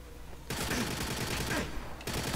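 Rapid bursts of gunfire in the GoldenEye Reloaded shooter, two long dense volleys with a short gap between them, loud and close, no talking.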